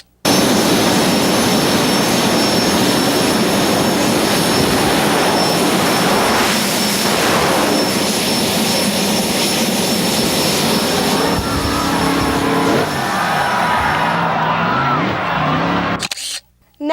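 A jet dragster at a drag strip roars at full power, a loud, sustained jet engine blast with rushing turbine noise that holds steady for many seconds before cutting off abruptly near the end.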